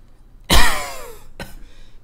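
A person coughs once, loud, harsh and close, then gives a shorter, weaker cough in an otherwise quiet room.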